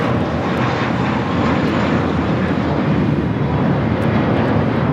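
An American Airlines Airbus A321 jet takes off at Los Angeles LAX airport, a loud continuous broadband engine roar that holds steady throughout with no voices.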